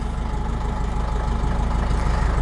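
A 1965 1¾-ton diesel truck engine with a hand crank idles nearby, a steady, loud, low rumbling chug with an even pulsing rhythm that swells slightly toward the end.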